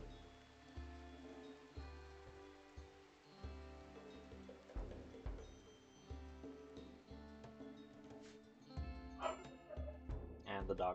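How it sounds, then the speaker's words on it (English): A dog in the video game RimWorld barks and yips repeatedly during a raid, short bursts under a continuous game music bed, with someone talking over it. "And the dog is going crazy."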